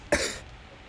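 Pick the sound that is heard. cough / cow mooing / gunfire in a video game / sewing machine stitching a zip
cough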